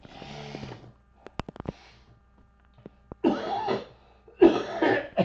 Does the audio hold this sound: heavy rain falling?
no